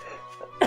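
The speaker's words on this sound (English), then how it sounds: "Sorry for the cough." A single short, harsh cough bursts out at the end after a brief quiet stretch, from a person getting over bronchitis, close and fairly loud.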